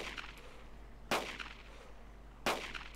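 Two sharp, loud shots from a 1911 .45 ACP pistol in DayZ, spaced over a second apart, each with a brief ringing tail over a low background hum; no speech.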